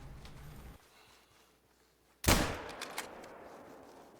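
A single loud, sharp gunshot from a Call of the Texan-style shooter game bursts in after a quiet stretch, its echo decaying over the next couple of seconds with a few smaller follow-up pops.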